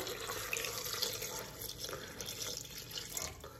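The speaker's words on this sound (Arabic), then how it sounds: "صافي غادي نضيف الماء." Water running steadily from a tap into fruit for a homemade natural juice, a continuous soft splashing hiss at moderate level with faint drips, no talk.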